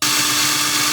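A power drill bores mounting holes into an MDF board, one continuous loud whine running steadily and close up, with no voices.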